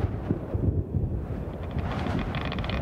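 Rushing shockwave wind after an explosion in the Subnautica video game, a steady, dense roar of gusting air that fills the clip at moderate loudness with no voices over it.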